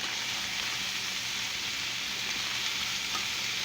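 Peppers and tomatoes sizzle steadily in a hot pan while being stirred for shrimp spaghetti, a close, continuous frying hiss with faint scraping and no voices.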